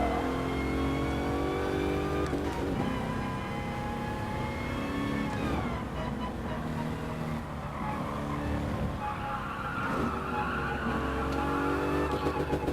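Race car engine in Gran Turismo Sport, steady loud droning and revving with rising and falling pitch sweeps as gears shift, plus tyre skidding squeals through the lap.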